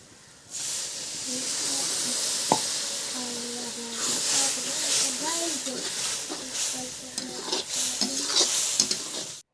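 Fenugreek seeds fry in hot mustard oil in a wok in a village kitchen, giving a steady close hiss and sizzle with stirring crackles while someone talks over it.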